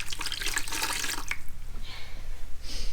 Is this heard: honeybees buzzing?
no